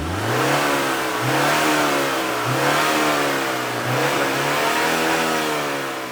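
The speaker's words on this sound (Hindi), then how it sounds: "और ये है इसका 2 लीटर टर्बोचार्ज पेट्रोल इंजन," A MINI JCW Countryman ALL4's 2-litre turbocharged petrol engine revs repeatedly, rising and falling in about five throaty swells, close and loud with no talking.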